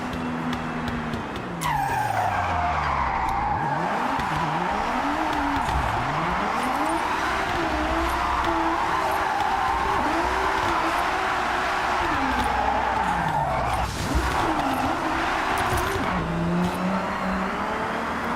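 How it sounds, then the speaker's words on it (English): Car drifting in Forza Horizon 6 with a steering wheel, a loud sustained engine whose pitch rises and falls with throttle, under continuous screeching tire squeal. "I'm trying to practice my drifting and get better at drifting"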